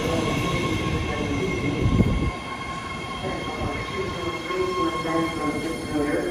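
A 10-car, 3-door Fleet of the Future BART Blue Line metro train rumbles into a station, a loud low roar with a brief squeal of wheels, then settling into a steady hum and whine.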